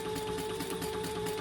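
A Bernina sewing machine runs steadily while basting pieces of bag fabric in place, a continuous close hum with a faint rapid stitching pulse and no pauses.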